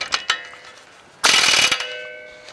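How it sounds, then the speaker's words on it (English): An air impact gun works on a lug nut stud of a 2015 Subaru Forester, starting with a couple of sharp metallic clicks, then a loud, close half-second burst of rattling whir that fades into a ringing tail. "I'm using an air gun."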